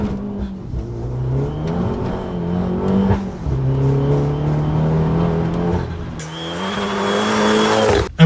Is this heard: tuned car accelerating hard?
yes